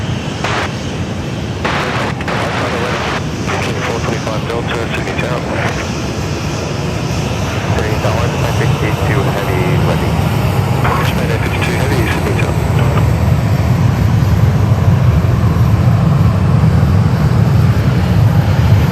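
An airliner, a Qantas 747, comes in to land on runway 16 right at Sydney Airport. Its roar builds and swells into a loud, broad rumble, with scattered crackles early on and voices talking over it at times.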